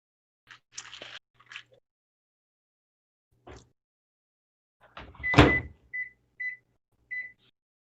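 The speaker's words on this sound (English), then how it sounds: "What's wrong with my microwave?" A microwave oven making a strange noise: irregular crackling and popping bursts, then a loud zap followed by a few short tonal chirps, fairly close in a quiet room.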